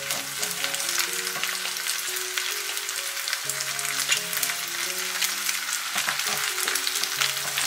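Meat slices fry on tofu skin in a pan, a loud, steady close sizzle with soft crackles, quiet background music underneath.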